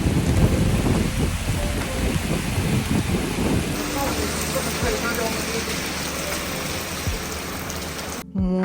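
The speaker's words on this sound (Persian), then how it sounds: "تا برسم پایین یه بارون افتضاح اومد" Heavy rain pours steadily outdoors with a dense, broad hiss and pattering; the downpour shifts tone midway, with speech mixed in under the rain throughout.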